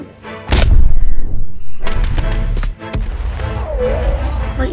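A self-damaging explosive unit blows up in Totally Accurate Battle Simulator, giving sharp, loud booms and thuds in several bursts, followed by a sustained rumbling wash of game noise.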